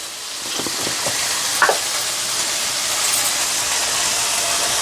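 Steady, close sizzle of ingredients frying in oil for an Andhra-style gongura curry, a continuous hiss with a few soft stirring scrapes and one brief clink near the middle.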